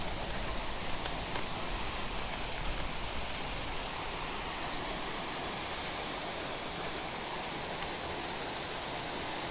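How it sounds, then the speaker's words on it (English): Steady, dense rush of falling water, loud and continuous throughout, like a nearby waterfall pouring without pause, beside the Route of the Hiawatha Trail in Idaho. "Get on the trail with a waterfall flowing."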